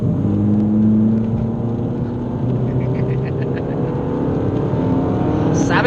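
A Fiat Panda 100HP with its engine pulling hard under acceleration, heard from inside the car as a steady, loud rasp whose pitch climbs slowly through one long gear, with no speech over it.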